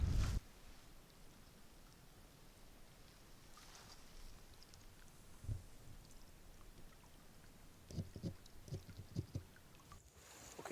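A canoe departs the shore onto a lake in Kawartha Highlands Provincial Park, with faint water lapping and scattered soft paddle splashes and knocks, quiet and close, clustering near the end.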